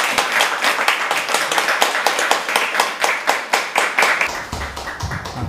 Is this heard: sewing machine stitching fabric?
no